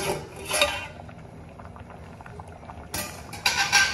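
Mixed lentil dal, Maharashtrian-style varan, simmers in a half-covered pot on a low stove flame. It gives a steady, soft bubbling close by, with a few brighter clattering bursts near the start and end, and no voices.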